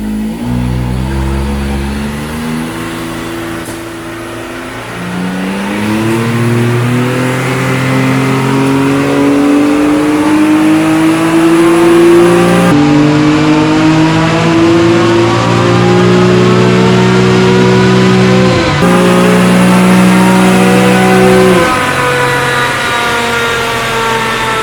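A 2017 Can-Am X3 side-by-side on a dyno, its engine revving hard through repeated rising pulls with a few sharp drops between shifts, loud and close for the whole run.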